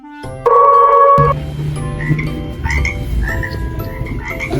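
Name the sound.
frog croaking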